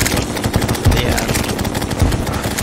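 Rapid bullet fire from a weapon in Terraria, in Expert Mode during a boss fight, rattles as a dense, continuous burst of quick shots, loud and close, with a voice talking over it.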